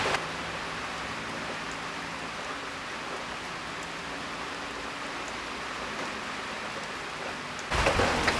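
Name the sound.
heavy rain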